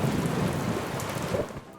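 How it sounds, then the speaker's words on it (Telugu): Steady rain falls across the whole short stretch, a dense hiss with low rumbling that suggests distant thunder, fading slightly near the end. "అరే చూడు, వర్షం మొదలైంది."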